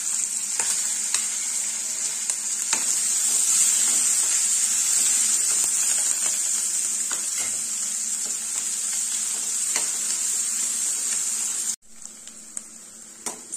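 Onion, curry leaves and green chili sautéing in oil for bajra upma, a steady close sizzle with intermittent stirring scrapes against the pan, quieter after a brief break near the end.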